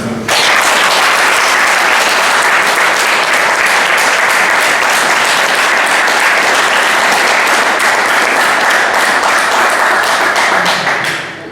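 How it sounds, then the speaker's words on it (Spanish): Strong applause from a live audience at a talk event, dense continuous clapping that starts abruptly, holds loud and steady for about eleven seconds, then begins to fade. "solo un fuerte aplauso"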